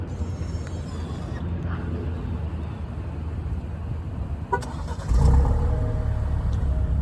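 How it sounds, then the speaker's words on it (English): A steady low outdoor rumble, then a brief chirp-like beep followed by an Alfa Romeo Giulia engine turning over by remote start and settling into a close, low idle. "so it's got remote start"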